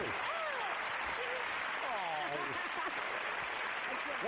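Studio audience applause on a UK quiz show, a steady wash of clapping running under a voice that speaks over it throughout.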